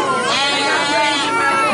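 Navajo churro sheep bleat close by at a fiber festival, a short wavering cry that rises and falls, with people's voices mixed in.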